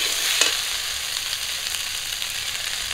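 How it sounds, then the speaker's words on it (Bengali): Shrimp, puti fish and jackfruit seeds fry in a pan with a loud, continuous close sizzle and one brief clink near the start. "সব কিছু একটু হালকা করে ভেজে নিয়েছি।"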